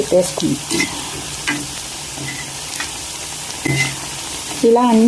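Suji rings frying in hot oil while being turned over, a steady close sizzle with scraping stirs and clinks of the utensil, no talking.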